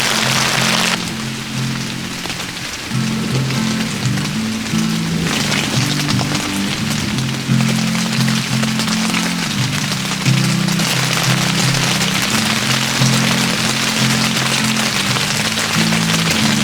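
Steady rain patters continuously on a surface nearby, with a constant hiss and a low hum underneath throughout.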